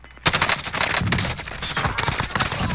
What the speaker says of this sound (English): Oh, sniper shooting